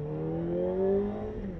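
A Kawasaki ZX-4RR motorcycle in second gear pulls away from about 20 mph. Its engine note climbs in a smooth rising whine that swells and then eases back over a short stretch, close and without talk.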